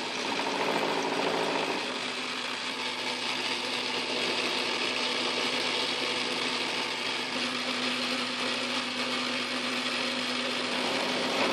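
A South Bend 9 x 24 workshop lathe with a milling attachment cuts metal, producing a steady, dense machine whir and grinding hum that continues unbroken for the whole stretch, slightly heavier at the start.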